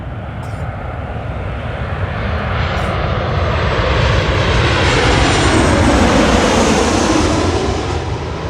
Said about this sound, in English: A Delta Airlines 737-900 coming from Seattle.